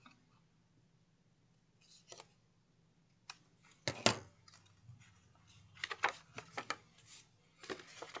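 A few quiet snips of scissors cutting fabric, close and intermittent, with soft handling sounds between cuts and low background hum.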